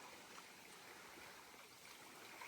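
Wind and flowing water beside a dock, a faint, steady, even wash of noise with no voices.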